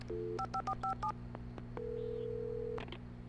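Electronic touch-tone beeps dial a short number in quick succession on a phone in Alan Wake, followed by a longer steady tone, faint over a low background hum.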